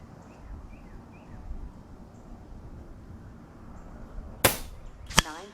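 FX Impact MKII air rifle firing NSA 43.5 gr slugs: two sharp, close cracks less than a second apart near the end, after quiet outdoor ambience with faint bird calls.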